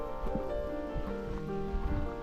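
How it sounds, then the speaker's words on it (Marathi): Water rushes down through the gates of Nishan Dam in Vengurla, a steady, faint, broadband roar heard from a distance with no voices. "इथे धरणाचे दरवाजे आहेत हे बघा बघू शकतो इथे पाणी खाली जातं"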